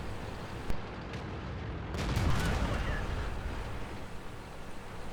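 A tank's main gun fires during a video game tank battle, giving a loud, booming blast with a rumbling tail. Duller impacts and gunfire rattle through the constant background noise, and no one speaks.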